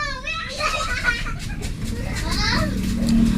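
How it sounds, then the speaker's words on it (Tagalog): Children play noisily outdoors on a Sunday, with high-pitched shouts, chatter and squeals spilling in from outside. A low steady hum continues underneath. "may maingay lang guys sa labas, may mga naglalarong bata dahil ang araw po ngayon ay linggo"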